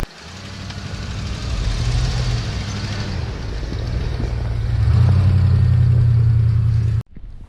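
A lifted OBS Ford truck's engine rumbles low and steady as it pulls out through heavy wet snow, growing louder and deeper toward the end before cutting off abruptly.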